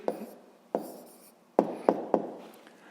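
Pen writing on paper during a sixth-grade maths lesson, five short sharp scratchy strokes spaced across the moment, close and fairly quiet with no talk.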